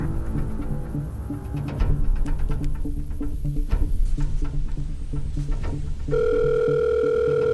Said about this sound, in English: Nico, Gene, give me a quick trace on that number that just called my phone